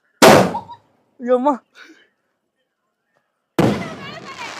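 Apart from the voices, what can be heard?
firecrackers exploding, Sivakasi crackers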